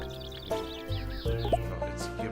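Chickens cluck in a chicken coop in the farming video game Farm Manager, several overlapping bird calls over a steady droning background, close and fairly loud throughout.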